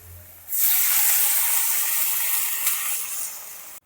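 A loud, sudden hiss erupts as water hits a hot pan of tomatoes and turmeric, sustaining a steady steamy roar for several seconds before cutting off.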